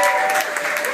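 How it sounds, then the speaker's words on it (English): A short burst of dense audience applause, steady clapping from a crowd with a faint voice beneath. "can we give a round of applause?"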